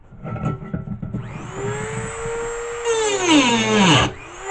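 A power tool whines up to a high, harsh pitch and grinds against steel, throwing sparks, rising and falling before spinning down.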